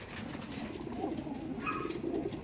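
Pigeons coo steadily at close range, soft repeated throaty calls overlapping in a loft or rooftop coop, with a faint higher bird call briefly mixed in.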